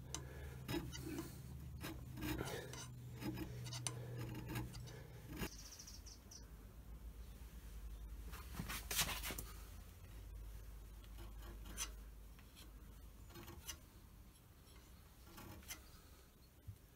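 Hand scraping on the cast-iron machine ways of an Elliot 14S gives repeated short rasping strokes in an uneven rhythm, close and fairly quiet. A low hum fades out after the first few seconds.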